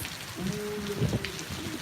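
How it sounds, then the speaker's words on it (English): Steady rain falls in a soft, even patter, faint and continuous, with a low hum underneath. "I don't want to float away in this rain."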